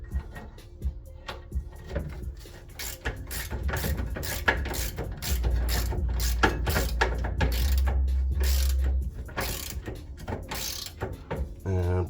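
Socket wrench ratcheting on the rear brake bolts of a Ram 1500, Loctite-secured, a close run of quick mechanical clicks in bursts with brief pauses.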